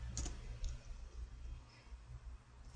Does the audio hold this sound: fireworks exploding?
no